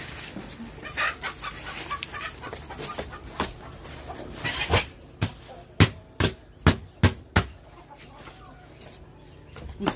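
Chickens on a poultry farm cluck in a run of sharp, repeated calls that grow louder and more regular midway through, with other fowl noises around them.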